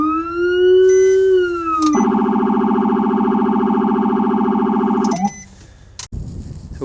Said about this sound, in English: you can also hear that low frequency siren going as well